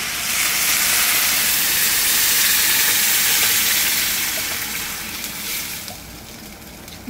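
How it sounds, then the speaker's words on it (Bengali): Pre-heated water is poured into a pot of bhuna khichuri on the stove, a loud, steady hissing sizzle that fades a little toward the end. "এখন আমি এর ভিতরে জল দিব।"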